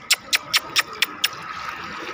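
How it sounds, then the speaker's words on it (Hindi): Hot water splashes into a pigeon's water bowl in six quick, evenly spaced bursts, close and fairly soft, then trails off into a faint steady trickle. "ये डाल देता हूँ भाई यहाँ पर मैं पानी"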